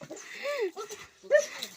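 An eager dog whimpers and whines in a garden, a few short wavering cries with brief pauses between them, fairly close and quiet.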